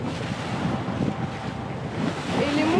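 Ocean waves and strong wind roar around a sailboat at sea during a Mini Transat solo race, a constant loud rushing wash with buffeting wind against the microphone and no talking.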